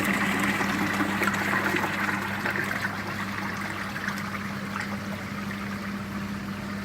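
Water flows back into an Evolution Aqua Nexus koi pond filter, a steady rushing trickle with a low pump hum underneath, continuous and fairly close, with no talking.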